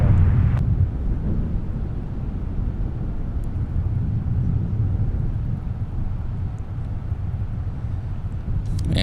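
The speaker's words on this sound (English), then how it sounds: "Couple of rapid succession departures here on the south parallel" Airliners departing from MSP airport's south parallel runway, a steady broad low roar of jet engines that persists throughout, with no talk.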